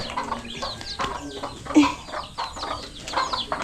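Chickens cluck and murmur nearby in a wooden coop, in a busy, overlapping chorus, with occasional sharper calls and some background clatter.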